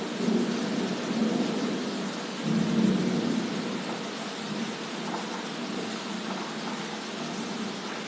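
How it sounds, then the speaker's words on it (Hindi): Thunder rolls through a rainstorm in a long, heavy rumble over steady pouring rain, swelling near the start and then settling into a continuous wash of rain noise. "बाप रे, बिजली कड़क रहा है।"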